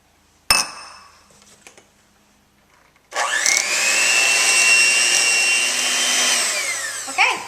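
Electric hand mixer beating eggs into butter batter in a bowl for cinnamon buns, a loud steady whirring drone after an initial clink and a pause, close to the mic.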